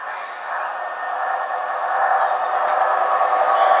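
A London Midland class 172 diesel multiple unit passes a level crossing, a steady broad rumble of wheels and engine that swells gradually louder as it approaches, with no voices.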